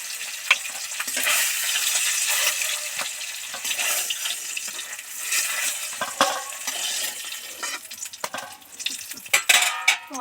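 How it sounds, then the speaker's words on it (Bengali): Turmeric-coated boiled eggs fry in hot oil in a kadai, a steady crackling sizzle with scattered pops and occasional utensil scrapes, moderately close, with no talking. "ডিমের মধ্যে একটু হলুদ মাখিয়ে ভাজতে থাকলাম"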